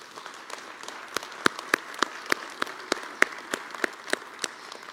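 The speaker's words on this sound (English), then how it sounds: "Please join me in a round of applause for these hardworking city departments" Audience at a city State of the City address applauding, scattered individual claps in an uneven rhythm over a soft bed of crowd clapping, moderately distant.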